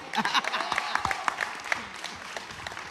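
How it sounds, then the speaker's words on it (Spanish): A lecture audience applauds the guests of a university talk on radio; scattered, fairly soft clapping runs throughout, with a voice heard under it. "ahora sí, un fuerte aplauso para ellos, para Romina Mangel, Martín Castillo"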